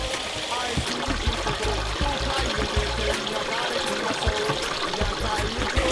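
Water pours steadily from an outlet into a rice paddy being readied for planting, a continuous close splashing trickle with no talk over it.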